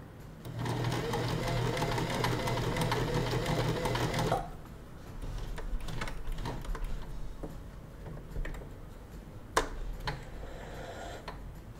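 Janome sewing machine stitching under foot-pedal control, a fast, steady mechanical whir of needle strokes for about four seconds that stops abruptly, followed by quiet handling clicks and a sharp tap.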